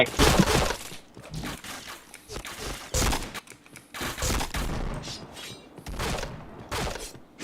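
Rapid bursts of gunfire in a video game shooter crackle across the clip, with repeated loud volleys and brief gaps while players talk excitedly over the action.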